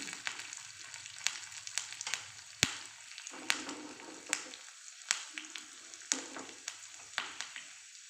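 Curry leaves and garlic fry in hot oil, giving a steady, crackling sizzle with regular bursts of spattering and occasional stirring, close and moderately quiet with no talk.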